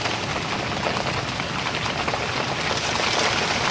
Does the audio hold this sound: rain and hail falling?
yes